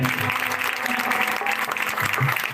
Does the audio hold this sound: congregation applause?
yes